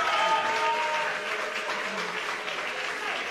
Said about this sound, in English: A round of applause for Amat Sewa